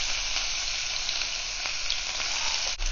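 Sliced onion dropped into hot oil with mustard seeds and urad dal: loud, continuous close-up sizzling, a steady bright hiss with a few faint crackles, no talking.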